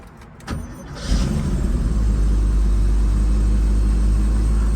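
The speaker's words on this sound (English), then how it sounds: "let's fire this car up" A 1979 Porsche 930 Turbo engine cranks briefly, catches, and settles into a loud, steady low idle rumble close by.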